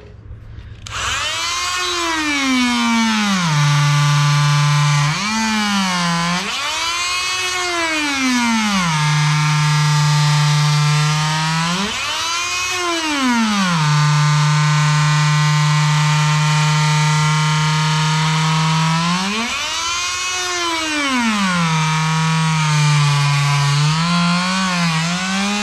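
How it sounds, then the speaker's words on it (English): Sawzall reciprocating saw slicing the top tread off a 32-inch mud tire, a loud, steady high-pitched motor whine whose pitch swoops up and down repeatedly as the blade bogs and frees, running continuously with no talk. "Then you turn the tire this way and you cut off the top portion of the meat."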